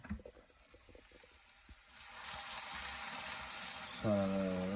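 Lightly warm water poured into a pan of spiced meat: a faint rising pour and hiss that grows into a steady wash, ending in a louder bubbling swirl, quiet and close.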